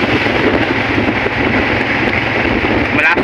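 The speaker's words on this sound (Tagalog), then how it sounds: "Malakas po hangin. Malamig." Strong, cold wind roaring steadily across the microphone by Caliraya Lake in Laguna, a loud, dense rushing noise with no letup.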